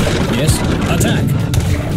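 Artillery fire in an Age of Empires III battle at Morristown, a dense rumble of booms and cracking shots piling up continuously, loud and close, with a voice speaking over it.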